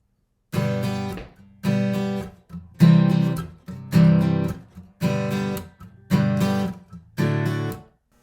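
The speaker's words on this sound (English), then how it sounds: "This is one of my guitars, and if you were here in this room, it would sound like this." Acoustic guitar played live in a home studio and office room, strumming seven bright chords in an even, steady rhythm, each ringing briefly before the next, close and clear.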